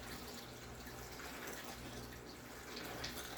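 Peach moonshine poured back into a jar, a soft continuous liquid splash and trickle at low level against a faint background.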